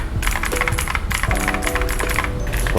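Rapid clicky keystrokes on a mechanical keyboard with stock switches, typed continuously and fairly close, with faint steady tones running underneath.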